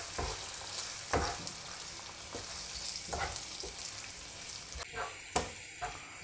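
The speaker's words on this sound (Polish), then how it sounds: "przelewamy nasze jajka na patelnię i całość mieszamy." Scrambled eggs sizzling steadily in a hot pan, with occasional scraping and clinks of a utensil stirring them, close and fairly quiet.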